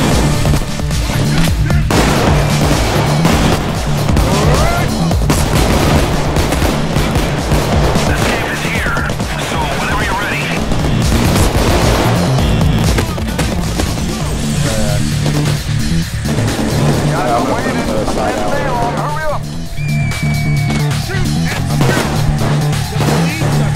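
Dense, continuous gunfire and rattling bursts from a PAYDAY 2 heist fill the scene loudly, with people talking over the shooting throughout.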